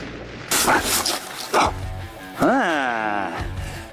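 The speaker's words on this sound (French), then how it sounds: "C'est un vrai pistolet de détresse de Huntrix. Essayons ça." A Huntrix flare gun goes off in a forest with two sharp, loud bursts about a second apart, followed by a rising whistling cry and a final thump as a voice reacts.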